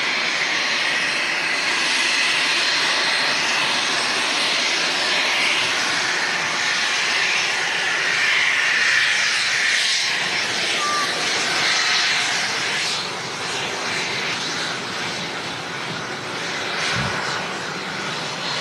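Business jet from a Jersey operator flying Citation CJ3s, Phenom 300s and Falcon 2000LXs at Manchester Airport, a sustained loud jet roar that holds steady then eases slightly, heard alone.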